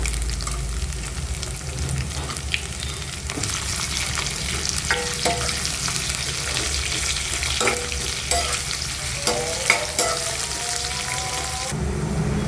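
Thinly sliced onion frying in a pan for a moong dal curry with spinach and eggplant, loud steady sizzling with repeated spatula scrapes and clinks, close up and without talk.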